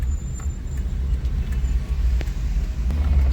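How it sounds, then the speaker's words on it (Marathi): Steady road traffic rumbles around a car on a congested weekend road near Karjat chowk, with a dense low hum and occasional passing vehicles, close and continuous without speech. "ट्रॅफिक लागलेली आहे नेहमीचा प्रॉब्लेम"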